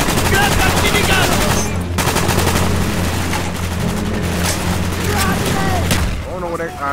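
A Death Machine minigun fires in Call of Duty: Black Ops with a loud, continuous rapid stream of shots that runs for several seconds, mixed with explosions and in-game voices, before easing off near the end.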